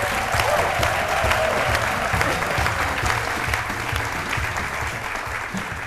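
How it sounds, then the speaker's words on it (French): A studio audience on a midday television show applauds a surprise guest with steady, full clapping that holds at a constant level, with a low background hum underneath. "Je vous demande de l'applaudir très fort, c'est notre invitée surprise."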